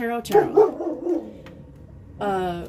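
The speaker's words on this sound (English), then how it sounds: "Outside dogs too, sorry." Dogs bark outside in harmonic, yelping bursts, a cluster at the start and another near the end, fairly loud, with a short lull between.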